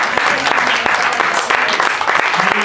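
Congregation applauding at a church service, loud and close, with the clapping rising and falling in bursts while a voice or cheers cut through now and then.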